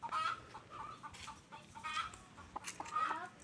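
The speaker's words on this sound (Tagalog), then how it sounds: "Mga manok niya." Backyard chickens in Alfonso, Cavite cluck in short repeated bursts over about three and a half seconds, fairly close and moderately loud, with quiet outdoor background between calls.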